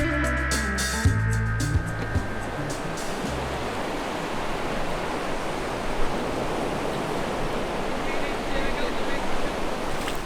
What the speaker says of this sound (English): we can smell the salt and hear the crash of the waves in the distance